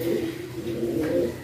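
Pigeons give a low, steady, throaty coo that rolls on continuously at close range, with no talking.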